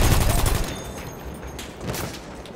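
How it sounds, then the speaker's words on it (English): Gunfire from a sniper in the Battlefield video game, a loud dense burst of shots at the start fading into a rumbling barrage with a second swell near the end. "Whoa, there's a sniper shooting at me."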